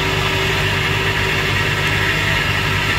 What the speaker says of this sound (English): What you hear is the transmission spinning